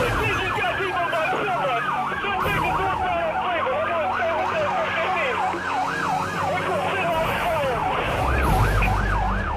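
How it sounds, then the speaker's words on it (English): Multiple police squad car sirens wailing during a pursuit, overlapping rising and falling tones, loud and close, over engine rumble with a heavy low thump near the end. "with multiple squad cars sounding the alarm"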